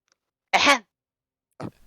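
One sharp cough bursts out, then a second, shorter one follows after a pause of about a second, standing alone against near silence.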